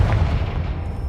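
A Confringo spell explosion in Hogwarts Legacy, a loud, dense, low blast that rumbles through the whole short moment with no voices over it.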